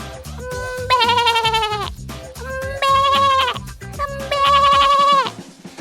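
A person's voice imitates a goat bleating: three loud, drawn-out, wavering bleats close up, each lasting about a second, separated by short pauses.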